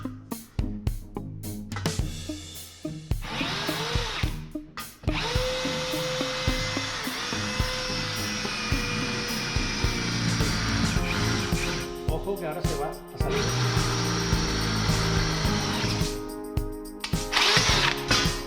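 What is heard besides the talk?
drill bit boring a hole in metal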